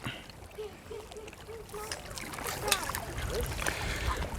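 Bare feet go into a tub of icy water, with close sloshing, splashes and trickling that grow busier in the second half.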